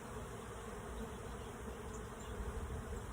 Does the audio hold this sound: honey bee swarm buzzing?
yes